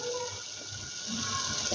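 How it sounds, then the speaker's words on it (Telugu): Water is poured from a small glass into curry cooking in a pan, making a steady, soft gush that lasts about two seconds. The sound is close and moderately quiet. "చిన్న గ్లాస్తో నీళ్ళు పోసుకొని కొద్దిసేపు ఉడకబెట్టాలి."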